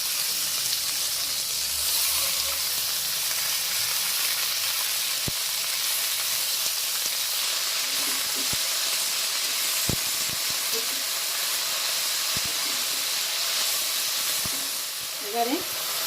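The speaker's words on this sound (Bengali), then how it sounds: "শিম আর আলু হালকা করে ভেজে নেব। এবারে দিয়ে দেব কেটে রাখা মেথি শাক।" Flat beans, potato and fenugreek leaves frying in a pan, giving a steady, soft hiss of sizzling oil with a few faint knocks, close and continuous.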